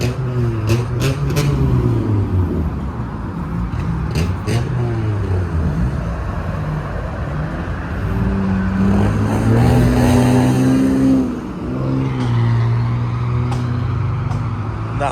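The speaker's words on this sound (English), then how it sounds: "Nah, someone revving this shit." Car engines revving at a nighttime car meet with police nearby, loud throaty revs rising and falling over continuous background noise, with a sharper rising rev near the end and people talking faintly in the crowd.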